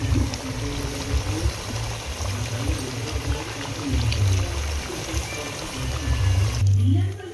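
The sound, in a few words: pouring tamarind juice into chicken liver curry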